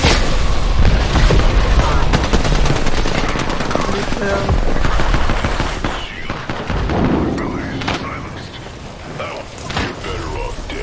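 Gunfire and a grenade blast from the Apex Legends battle royale shooter, with dense bursts of rapid shots and booms throughout, loud and close, under players talking.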